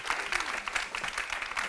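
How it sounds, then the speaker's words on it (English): Warm applause from an audience at a corporate giving event, continuous clapping close by with a faint murmur beneath it. "can you please join me in a warm round of applause"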